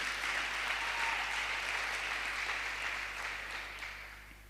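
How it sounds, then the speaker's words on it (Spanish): A church congregation claps in sustained applause, steady and dense, gradually fading toward the end. "Si le vas a dar el aplauso, se lo das bien."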